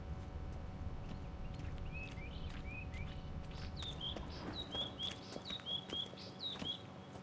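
Horse hooves clip-clop in a loose, uneven rhythm on a hill in the video game The Witcher 3: Wild Hunt, while birds chirp and trill steadily over a low background hum.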